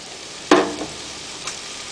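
Mushrooms dropped into a pan of hot peanut oil for egg foo young, giving a sudden loud sizzle that fades to a steady hiss, with a second brief crackle a moment later.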